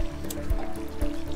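Nematodes dissolved in water being poured over a plant to fight weevil larvae, a steady liquid trickle and splash with a couple of low thumps, fairly close.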